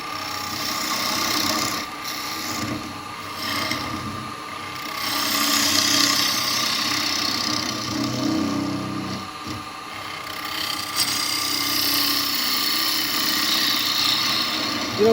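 A bowl gouge cutting very hard wood on a lathe, a continuous scraping, rasping cut over the motor's steady hum, with brief pauses and changes in pressure.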